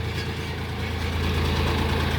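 A Dongfeng 244 tractor engine idles close by, a steady low diesel throb with even rhythmic knocking and no voices over it.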